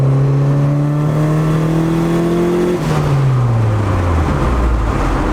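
A turbocharged car engine with a damaged manifold revs up loudly as the vehicle accelerates, the pitch climbing, dropping at a gear change, then rising again, heard from inside the car.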